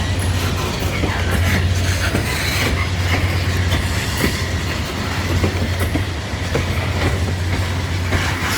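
A CSX freight train rolls past on the tracks at Kenova, a steady loud rumble with rhythmic clickety-clack of wheels and a low drone throughout, with no talking.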